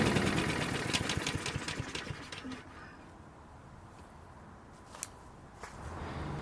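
A small engine runs steadily while Seafoam is poured into it, the idle dropping lower and thinner partway through as the engine starts to stall, with a couple of brief clicks and birds faintly in the background.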